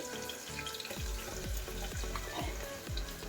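Pounded spices dropped into a sizzling curry-leaf tempering in hot oil, with a crackling fry and a few rhythmic stirring scrapes close by.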